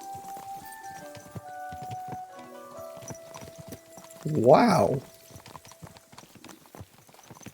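Horse hooves clip-clopping in Kingdom Come: Deliverance II, a steady walking rhythm close by, with a louder burst of sound partway through and a brief exclamation from a voice.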